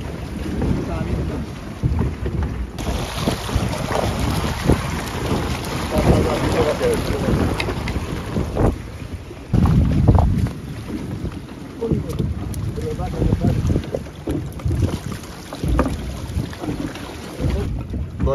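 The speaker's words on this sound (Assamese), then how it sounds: "বতাহজাক এতিয়াও বলি আছে কিন্তু বিজুলী কমি গৈছে" Strong storm wind gusting around a boat in rough weather, a steady roaring rush with buffeting on the microphone and heavier gusts, loud and continuous throughout.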